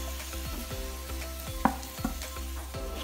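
Onions and chopped tomatoes with turmeric fry in a clay pot for a tuna fish biryani, a steady sizzle with spoon scrapes and stirring knocks, one sharper clink near the middle, close and without talk.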